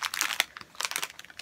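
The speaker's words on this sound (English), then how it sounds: "I'm so sorry about the crinkling noise." Plastic bags filled with Easter grass crinkle and crunch in a close, continuous rustle with sharper crackling bursts throughout, no speech over them.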